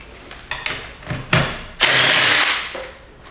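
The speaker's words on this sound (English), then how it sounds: "if you have a drill or an impact driver, you can just spin off the lug nuts with that" A drill or impact driver spins lug nuts off a Chrysler car wheel: short mechanical whirs and clicks, then a loud sustained whine that fades out.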